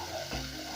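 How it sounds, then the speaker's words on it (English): Vegetables, including onions, sautéing in a pan, a steady close sizzle across a short moment with a faint soft bump partway through. "So I'm going to saute this till they turn translucent"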